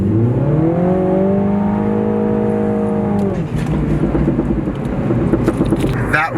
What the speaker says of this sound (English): That was all wheel spin.